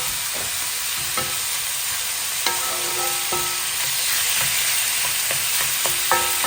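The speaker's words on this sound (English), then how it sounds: "I'm just going to add the chicken and going to increase the heat." Chicken pieces frying on high heat in a pan for a noodle dish, with a steady loud sizzle and occasional scraping clinks of a utensil stirring, no voices.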